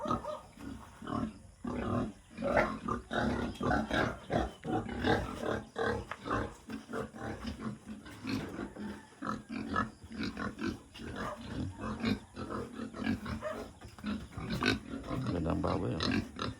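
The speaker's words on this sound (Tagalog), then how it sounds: "Mga baboy. Dami pa ng baboy." Pigs on a farm in the Philippines grunt and squeal almost continuously, many animals close by in overlapping bursts, with barely any talk.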